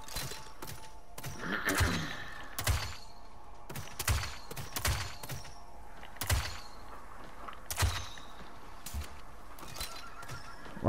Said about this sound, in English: I'm moving in with the horse.